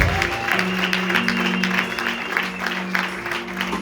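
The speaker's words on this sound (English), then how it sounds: "Let's give a round of applause to the man of God again" A conference crowd at a church Passover gathering breaks into continuous applause, a dense clatter of clapping running steadily for several seconds beneath a sustained tone of music.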